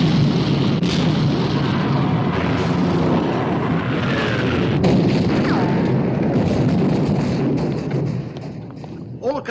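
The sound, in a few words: battleship guns firing in a naval battle (film)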